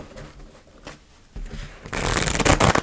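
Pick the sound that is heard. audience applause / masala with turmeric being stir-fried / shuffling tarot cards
shuffling tarot cards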